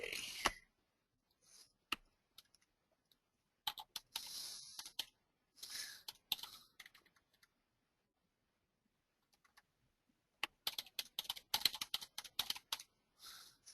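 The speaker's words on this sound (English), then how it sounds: "I can just simply start typing in here" Typing on a computer keyboard in bursts of rapid close clicks separated by silent pauses, fairly quiet and with no talk over it.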